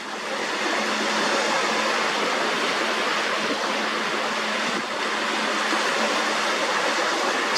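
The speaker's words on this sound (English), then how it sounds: "that water's pushing in there and it's starting to come around" Incoming tide water rushes around a small sandbank near Blackpool, a steady, broad hissing roar of moving water that stays close and constant throughout.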